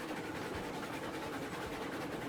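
A long train running in the railroad game Railroads Online, a steady rumbling roll with faint rhythmic clatter, continuous and moderately quiet throughout.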